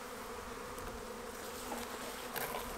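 A swarm of honeybees, roughly four pounds of them, drones in a steady continuous buzz close by, with no talk over it.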